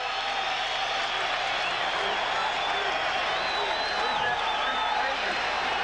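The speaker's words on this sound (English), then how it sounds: "It's just with that much crowd noise, nobody can hear the whistle either." NFL stadium crowd at a Dallas Cowboys versus Chicago Bears game roars in a steady, dense wash of noise, with people talking over it throughout.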